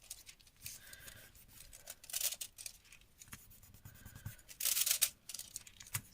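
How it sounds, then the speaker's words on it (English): Foil pressed firmly onto glue and gently peeled away, soft close crinkling and rubbing with a few brighter crackly peels, quiet and intermittent. "just use your foil and just firmly press it down and then just gently peel it away"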